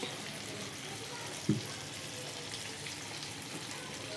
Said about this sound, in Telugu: మీడియం ఫ్లేమ్లోకి మార్చేసి ఇలా మంచిగా ఆయిల్లో ఎన్ని పడతాయో అన్ని వేసేస్తూ ఫ్రై చేసేసుకోవాలి